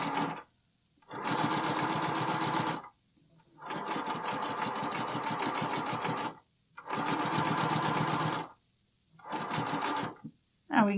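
A domestic sewing machine stitches a Cashmerette Loftus bralette in four long, steady bursts separated by short pauses. The motor whirs close and loud, with a rapid needle rattle.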